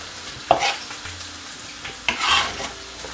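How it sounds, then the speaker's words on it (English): Soft sizzling of vegetables frying in a pan for corned beef, with two brief louder bursts of crackle and a light scrape of stirring, close by. "As you can hear, that small frying, lovely, looking so nice,"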